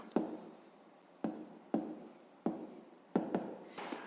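Pen strokes of a fifth-grade maths exercise being written by hand: crisp, separate scratches every half second or so, close and quiet, with no talk over them.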